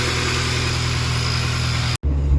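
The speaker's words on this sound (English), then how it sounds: "So I'm driving the car now." A Honda car engine running while driving, a steady close, droning hum with a low rumble that cuts out abruptly near the end before resuming heavier.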